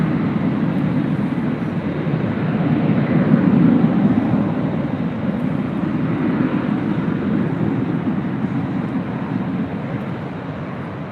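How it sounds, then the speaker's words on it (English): A Delta Boeing 767 rolls down runway 24 left at LAX on takeoff, its jet engines a loud, continuous broadband roar that swells slightly midway and holds steady. "This is Delta 767 now rolling down 24 left."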